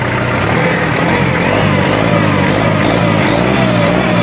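A tractor engine roars loud and close as the accelerator is pressed, holding a dense, continuous revving drone with no pauses or voices.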